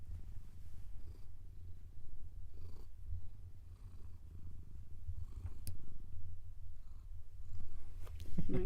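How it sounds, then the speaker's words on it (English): A cat purrs softly and continuously close by, a low rhythmic rumble that swells and eases with each breath, with a few faint sharp clicks near the end. "Can you guys hear her purring?"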